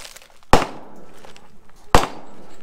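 Two sharp, loud gunshots from .45 multi-hit rounds fired at a layered target, spaced about a second and a half apart, each a close crack with a brief ringing tail.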